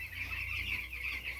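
Poultry chickens on a farm clucking steadily at close range, a continuous overlapping flock chorus over low background hum, with no talking.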